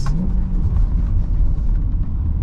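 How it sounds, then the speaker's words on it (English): A Chevrolet Corvette on a late-night road drive gives a deep, close, loud engine rumble with a quick blip as it downshifts, the low drone continuing steadily with no speech. "Couple more downshifts for your cute ass."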